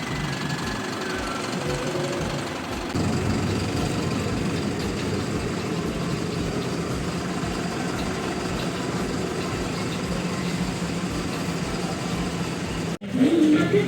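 Engine of an AC sleeper bus running, a steady low rumble and knocking drone from inside the cabin that grows louder partway through and continues evenly, with a sharp clunk near the end.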